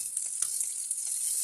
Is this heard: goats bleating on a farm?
no